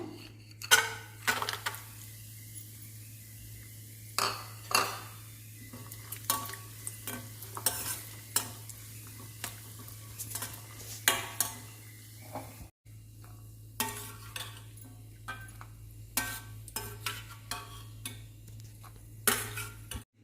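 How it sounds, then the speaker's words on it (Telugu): Cashews frying in a pan: a low sizzle runs under repeated clattering scrapes of a spoon stirring against the metal, with irregular sharp knocks spaced a second or so apart, close and fairly clear. "జీడిపప్పు వేయించుకుందాము"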